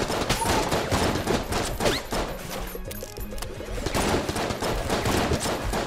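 Rapid, dense gunfire from an array of weapons in the video game Enter the Gungeon, a continuous loud barrage of overlapping shots with crashing impacts and no pauses.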